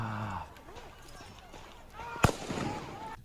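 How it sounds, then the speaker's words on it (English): Recorded gunfire from footage of the Rittenhouse shooting, played back through a device: a single sharp, loud crack stands out midway, with people talking over the recording before and after. "that's how you hear the gunshots"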